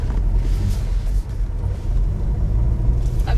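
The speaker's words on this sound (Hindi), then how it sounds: "ये देखिए हमारी गाड़ी हो गई है मूव" A car, driven by a learner, pulls away slowly as the clutch is let out and the accelerator gently pressed, giving a steady low engine rumble throughout with no talk over it.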